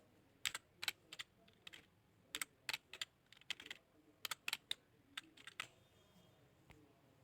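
Keys clatter on a computer keyboard during C programming, in irregular bursts of crisp close clicks with short pauses between them, and no one speaks.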